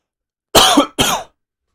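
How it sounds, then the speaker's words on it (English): Two quick, harsh coughs close to the microphone, one right after the other, in an otherwise silent room. "I know I just coughed"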